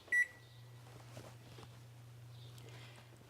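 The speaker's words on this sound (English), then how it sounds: "we're going to set the timer for 45 minutes" One short electronic beep as an oven timer is set for baking, followed by a steady low appliance hum and faint soft kitchen movements.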